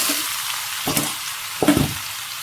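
Ridge gourd pieces drop into hot oil tempered with nigella seeds and chilli, giving a steady sizzle broken by two louder bursts as the vegetable hits the pan and is stirred; no one speaks.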